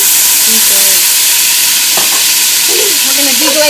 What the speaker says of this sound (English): We're going to deglaze the base of the pot.